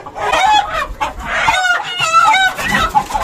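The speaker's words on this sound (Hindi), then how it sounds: "चारों मुर्गे पकड़ लिए" Several roosters cluck and squawk in agitated bursts as they are caught, close by, with flapping and scuffling between calls.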